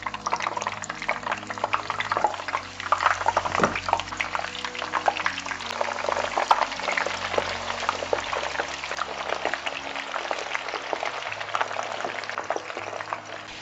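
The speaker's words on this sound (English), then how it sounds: "we're going to fry the remaining ones that we have with the plantain, the ripe plantain" Sweet potato and ripe plantain fry in hot oil with a steady, crackling sizzle and scattered pops, continuous and close throughout.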